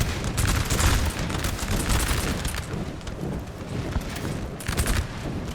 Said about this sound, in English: They're firing right into those Prussians there, getting a great point blank range shot.